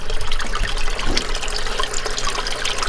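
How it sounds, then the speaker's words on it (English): Water pours steadily into a backyard pond stocked with bass and tilapia, a continuous loud splashing, gushing flow that holds for the whole stretch without pause. "I think we need to add a little water."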